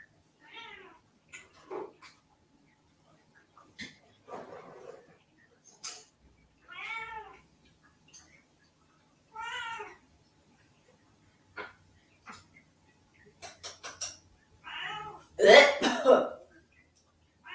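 A cat meows repeatedly in short, plaintive cries with pauses between them, ending in a louder, drawn-out yowl close by.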